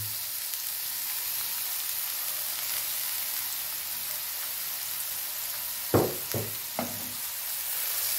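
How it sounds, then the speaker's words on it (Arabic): Broccoli and meat sauté in a frying pan with a constant soft sizzle and hiss. Near the end, a few sharp scraping clatters from stirring sit over it. "هلا بدنا نعملها سوتي مع اللحمه هيك بنكسب طعمة اللحمه مع البروكلي"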